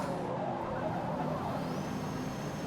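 A Mazda 323 in the Forza Motorsport racing game drones steadily around the Mugello circuit, its engine a continuous close whir that holds at a constant level, with a thin rising tone creeping in toward the end.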